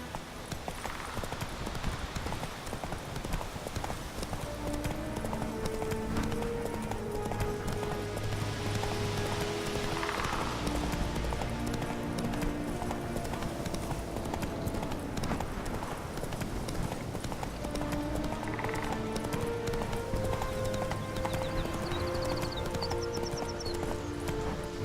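Roach the horse gallops in The Witcher 3 video game, a steady, continuous clip-clop of hooves running throughout at close range, with an occasional whinny and music beneath.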